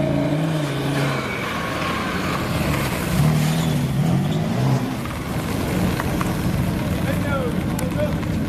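BMW M3/M4 and Audi TT RS drag cars at an Orlando drag strip, engines droning and revving at a distance under a busy crowd wash and ongoing commentary.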